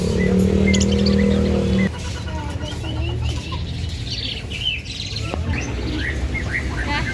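Small birds chirp and call in short bright bursts over a steady background hum, with a louder low drone in the first two seconds.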